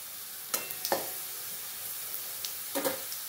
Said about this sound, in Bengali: ফোড়ন দেবো আমি রাঁধুনি, এই যে খুব বেশি দেওয়ার দরকার নেই, অল্প দিলেই হবে। এটা একটু ভেজে নেবো।